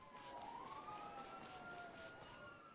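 Police siren chasing the player in Grand Theft Auto Online, a rising and falling wail heard faintly and steadily under a low hum of game background, with no talk.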